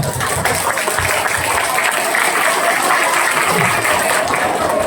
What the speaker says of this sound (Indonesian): silakan kembali tepuk tangan